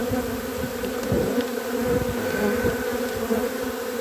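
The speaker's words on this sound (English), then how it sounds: "Look at all these bees." A large swarm of honeybees fills the air with a dense, steady buzzing hum, close and continuous, with individual bees zipping past now and then.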